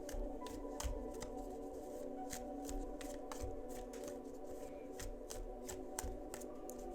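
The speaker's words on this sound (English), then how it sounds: "when I'm shuffling and no more cards are coming out" A deck of cards being shuffled by hand, quiet repeated riffling flicks and soft taps in an irregular rhythm, close up with no talking.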